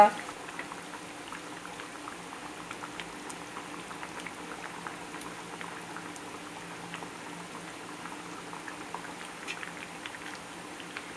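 Dried fish going into a simmering tomato and shallot gravy for a village-style dry fish curry, a steady low bubbling boil with faint patter, close and even throughout.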